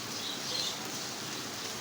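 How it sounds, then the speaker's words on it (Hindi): Heavy rain pours steadily during Eid ul Adha, a dense, constant hiss filling the scene without pause, fairly close and even in loudness, with no voices. "इस वक्त ज़बरदस्त बारिश आ रही है"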